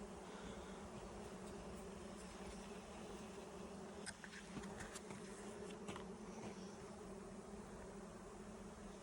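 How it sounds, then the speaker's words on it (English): A swarm of relocating honeybees drones steadily for about nine seconds, a dense and continuous buzz with a few brief louder passes near the mic, fairly quiet and with no voices. "You guys can hear that, right? Thousands of bees."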